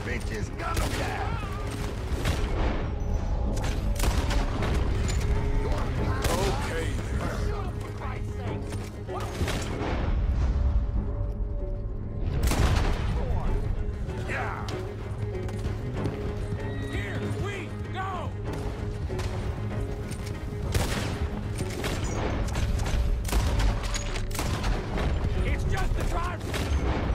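Sustained volleys of gunfire from a coach robbery in Red Dead Redemption 2, loud and continuous for the whole stretch, with crashes and booms layered over a dense game soundscape and voices shouting over the shooting.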